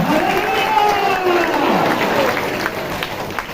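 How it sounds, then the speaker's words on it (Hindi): A congregation claps steadily through a Hindi-language Christian sermon, the applause forming a dense, even wash beneath a preacher's raised voice. "ताली बजा के परमेश्वर का धन्यवाद करो।"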